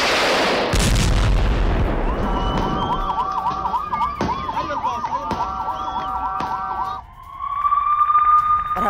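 Air raid sirens wail in Israel, a loud rising-and-falling tone that carries steadily through the middle of the clip over heavy rumbling noise, then shifts to a flatter, steady pitch near the end.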